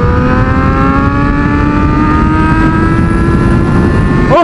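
A Harley-Davidson motorcycle engine revs loud and close, holding a steady rising drone throughout with no talk over it.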